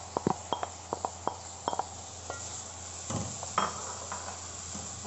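Fried okra is stirred into a pan of spiced masala with green chilies, with a low sizzle under a series of sharp spoon clacks and scrapes against the pan.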